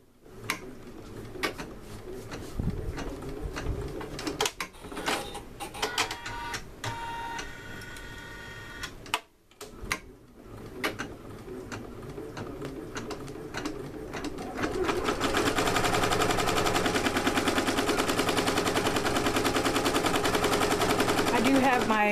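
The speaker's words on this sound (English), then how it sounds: "Machine set at 800 stitches per minute, so it's not going to bounce around that much. It's just doing an outline stitching." A Janome MB4 embroidery machine set at 800 stitches per minute stitches an outline on a quilt, producing rapid rhythmic clattering with pauses and clicks early, then a steadier, louder mechanical rattle that runs continuously toward the end.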